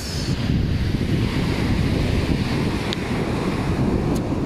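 Sea waves at an open beach in Kuwait wash in a constant, close roar, mixed with heavy wind buffeting the microphone.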